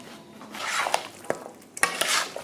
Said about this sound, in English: Give it a good mix and add 2 tablespoons of your favorite curry powder.